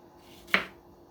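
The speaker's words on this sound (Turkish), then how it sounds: "Domateslerimi de soyup ikiye bölüyorum." A single crisp knife chop through a peeled tomato against a cutting board, short and sharp, with quiet before and after.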